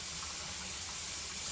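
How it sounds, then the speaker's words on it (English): Hot water running from a tap to melt wax on a wax brush, a soft steady hiss of flowing water, fairly quiet and constant, with no voices. "you want to run the hot water so it melts the wax"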